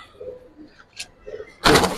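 A Gribaz pigeon from a collection of silver and army khaki birds gives two soft, low coos. A sudden loud burst of rustling or flapping follows close by.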